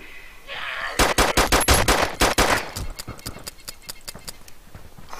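Makarov pistol fire in the video game DayZ: a rapid string of about a dozen sharp, loud shots at a fast even pace, followed by fainter, sparser reports and echoes trailing off.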